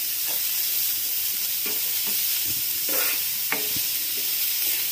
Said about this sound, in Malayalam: ഇതൊരു 2 മിനിറ്റ് ഇളക്കി കൊടുത്താൽ മതി